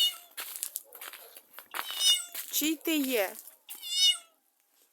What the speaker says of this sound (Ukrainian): А тут прийшов кричить ось чужий кіт рудий.